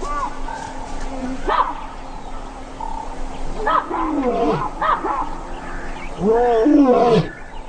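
Lions roaring loud warnings across the African savanna, several deep grunting roar bouts in sequence, the last one the longest and loudest.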